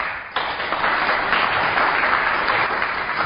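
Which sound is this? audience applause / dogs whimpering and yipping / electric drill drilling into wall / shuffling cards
audience applause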